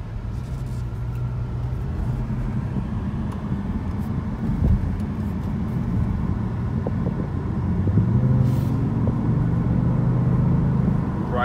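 A 2018 Kia Stinger GT2 RWD with 365 horsepower drives along, a steady low engine and road rumble from inside the cabin, the engine note rising as it accelerates.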